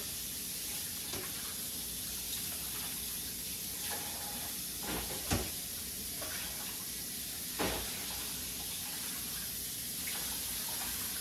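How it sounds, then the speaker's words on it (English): Steady running water from a kitchen tap hisses continuously, with a few brief clunks and scrapes as a cutting board is rinsed under it. "I'm gonna wash the cutting board because now you gotta cut the vegetables."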